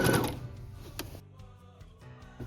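A sewing machine stitches a woven romper, giving a close mechanical whir that drops into quieter, intermittent ticking and clicking as the stitching slows.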